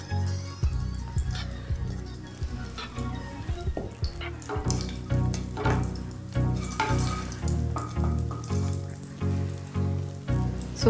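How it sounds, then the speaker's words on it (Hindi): Green cardamom pods crackling in hot melted ghee, a dense steady sizzle with sharp pops and clinks of a pan throughout, close and fairly loud with no talking. "घी गर्म हो चुका है मेल्ट हो चुका है तो इसमें थोड़ी सी इलायची डाल लेते हैं"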